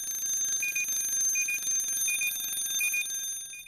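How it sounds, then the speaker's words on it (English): A shrill SCBA low-pressure alarm beeps in a steady, repeating high-pitched pattern, loud and close, with no voices. "and low pressure alarm."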